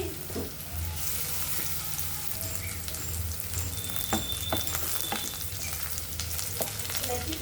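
Green chilies sizzling and frying in oil in a pan, a steady, close crackle with occasional sharper pops and stirring scrapes, no voices.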